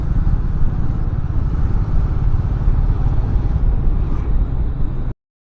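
Motorcycles riding on a road on the way toward Ladakh, a steady loud engine and wind roar running continuously and close, with no speech, ending abruptly.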